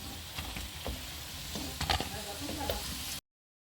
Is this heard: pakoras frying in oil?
yes